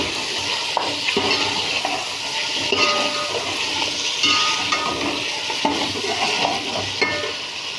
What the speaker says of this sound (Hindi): अब हम इसके अंदर टमाटर और 2 अदद हरी मिर्चें ऐड कर देंगे।